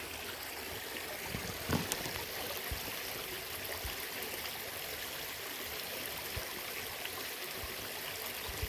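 Creek water flowing steadily in the woods, a soft continuous rush and trickle with a few faint knocks and rustles.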